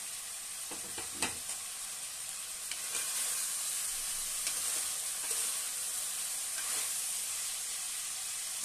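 Cauliflower curry with dried fish fries under a lid, giving a soft, even, continuous sizzle and hiss with a few faint knocks and scrapes early on, quiet and steady throughout.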